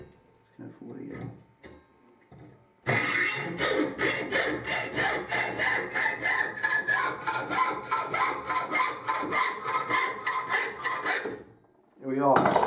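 A hacksaw with a 24 TPI blade cuts through metal in a home garage, a run of about twenty even, rhythmic back-and-forth rasping strokes, close and loud, bracketed by brief quieter handling sounds before and after.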